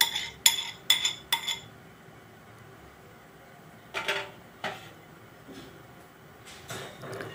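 A chopped vegetable mixture is moved from a small mixing bowl into another vessel for cutlets, with several sharp clinks of a utensil against the dish followed by softer scraping knocks, close up in a quiet kitchen.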